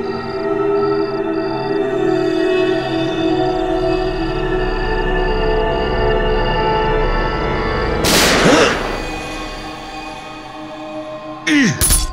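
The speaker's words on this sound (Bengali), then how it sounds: "আরে গুলি চালাচ্ছে না" Gunfire in a TV crime drama: a sharp broadband burst of shots lands near the eight-second mark, with a second short burst near the end, over a steady background hum.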